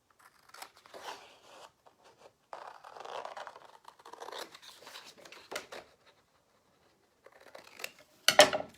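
Scissors snip paper while a handmade card is being trimmed, a series of faint, close cuts and rustles of paper scattered through the quiet, ending in one sharper, louder snip.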